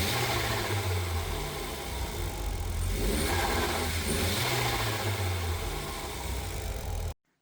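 An Audi A3 8L 1.8T with a stock gearbox mount runs close by, its low steady idle swelling into throttle blips and revs before cutting off abruptly near the end.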